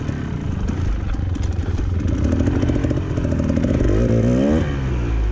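A dirt bike engine labors loudly and continuously up a hill climb at Hobble Creek, its revs rising and falling with rattling clatter from the machine, close and dominant throughout.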